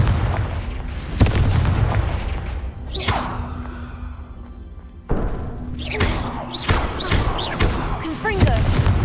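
Fire-spell blasts from Confringo in Hogwarts Legacy, heavy booming thuds that strike repeatedly, loud and close, with a voice talking and shouting over them.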